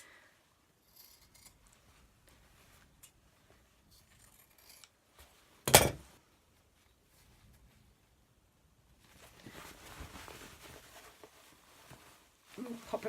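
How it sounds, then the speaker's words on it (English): Scissors trimming the corners of fleece fabric on a simple bag, a sharp snip at the midpoint followed later by softer cutting and rustling near the end, mostly quiet between. "I'm going to trim off the corners, trim off any of the fleece that's creeped out of the sides"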